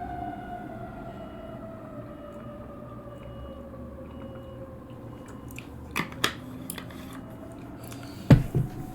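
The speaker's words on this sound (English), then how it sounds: "We're gonna have to do this again because of sirens" Sirens in Night City, Cyberpunk 2077, wail in slow falling sweeps that hold steady in the background, then sharp clicks and a couple of louder knocks break in near the end.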